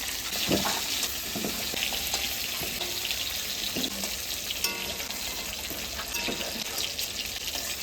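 Cauliflower frying in oil in a home kitchen, a constant close sizzling hiss with scattered pops and small clinks, heard without talk.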